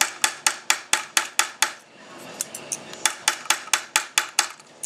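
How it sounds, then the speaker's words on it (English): Hammer pounding a small metal piece flat for earrings, with sharp, evenly spaced ringing blows close by, about seven in a quick run, a short pause, then another steady run of strikes. "And I'm just going to flip that over, pound it flat"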